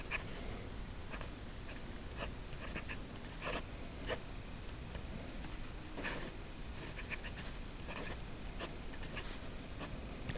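A Levenger Plumpster fountain pen with a broad nib, inked with Pelikan Brilliant Brown, scratches steadily across paper in close, continuous strokes, with short separate lines and pauses and no talking.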